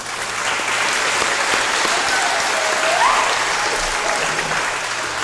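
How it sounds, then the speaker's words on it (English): Applause for a high school student council at a homecoming coronation, a steady dense wash of clapping from a large audience that holds evenly for about five seconds. "big round of applause for Student Council and to Kira Henderson for organizing this we"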